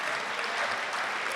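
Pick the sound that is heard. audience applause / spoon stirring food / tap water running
audience applause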